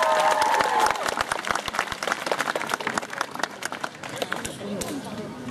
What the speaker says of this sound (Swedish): En stor applåd för vinnaren i vår novice-kategori!